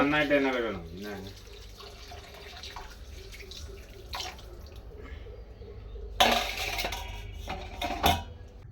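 Utensils being washed under running water at a home kitchen sink, with a steady wash of water, brief clinks and louder splashes near the end, under a person's speech at the start.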